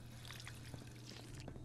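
A water fountain runs in the Fallout video game, giving off a faint, steady trickle and splash that continues without a break.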